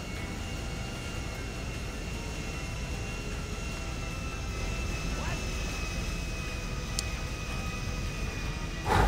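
Airplane taking off in GTA 5, a steady droning engine roar with a rising whine, continuous and fairly loud, with faint game sounds mixed in.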